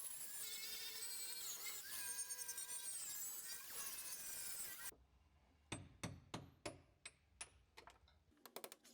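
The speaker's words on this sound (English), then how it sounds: "taking a hammer and a chisel, and I'm just taking off this thick rubberized sound deadening." Hammer and chisel strike repeatedly against thick rubberized sound deadening inside a car body behind the passenger seat, a series of sharp, close metallic knocks after a stretch of other noise.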